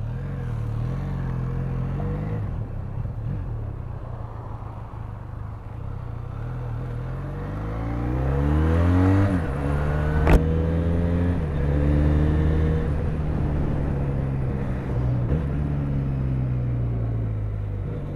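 A Benelli Leoncino 500 motorcycle engine heard while riding, idling low then revving up through rising and falling pitch sweeps as it accelerates and shifts, with steady road and wind noise.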